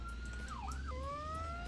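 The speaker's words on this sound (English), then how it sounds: "Oh, that's the siren I want to hear." Fire truck siren in the Roblox video game wails up and down, then sweeps into a rising tone, loud and up close over a deep, steady engine drone, with nobody talking.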